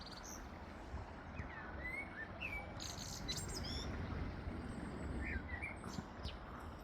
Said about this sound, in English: there's a male blackbird singing at the top of this tree.